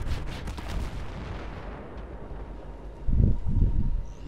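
Booming explosions and gunfire in the video game Battlefield 3 during the co-op mission Fire from the Sky: a low, rumbling roar that swells into heavy, thudding blasts near the end, with no voices.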